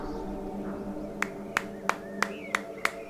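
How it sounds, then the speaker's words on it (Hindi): People clapping hands in a Hindi thriller film scene, a handful of sharp, evenly spaced claps over a low background hum. "ताली बजाओ भाई लोग"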